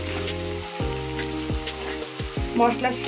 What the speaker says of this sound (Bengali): একটু এটাকে হালকা করে নাড়াচাড়া করে ভাজা ভাজা করে নিচ্ছি